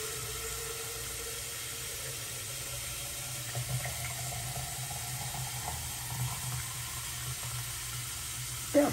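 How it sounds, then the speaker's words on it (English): Cold tap water runs steadily into the tank of a Jura ENA 4 coffee machine, a continuous close splashing flow with a small clunk at the end. "I put cold water in."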